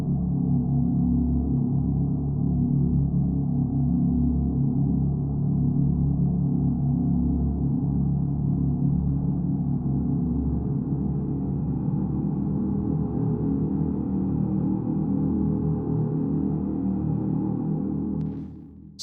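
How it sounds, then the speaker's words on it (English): A sustained, low atmospheric drone that slowly swells and shifts between notes, steady and continuous, fading out at the very end. "the volume coming in and out and raising and lowering to give more of like a swelling atmospheric effect"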